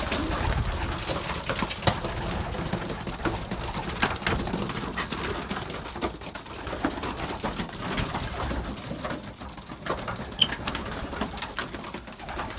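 A pigeon coos in soft, repeated low calls over steady background noise, continuing throughout at moderate distance.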